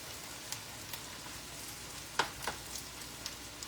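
Meat sizzles faintly in a pan, a steady low crackle broken by a handful of sharp clicks and scrapes as it gets stirred, probably with a silicone spatula.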